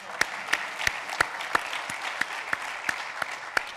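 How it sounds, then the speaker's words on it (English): A steady wash of clapping from a keynote audience, with a few sharper claps standing out at regular intervals, continuous and fairly close. "Give a round of applause for Jason."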